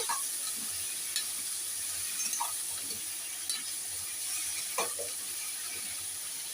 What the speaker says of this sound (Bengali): কুমড়োটা দিয়ে দিলাম, দিয়ে আবার একটু নেড়ে নেবো।